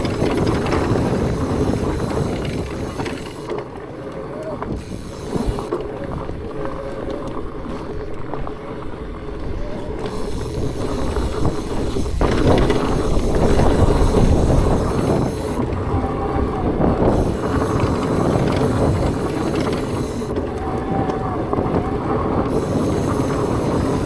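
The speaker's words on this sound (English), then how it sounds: "the tires honestly make more noise from their wide tread than the motor does" Borealis Keystone fat bike rolling along a trail, its wide-tread tires making a steady, loud rumbling roar over a low mid-drive motor hum, with wind buffeting throughout and no talking.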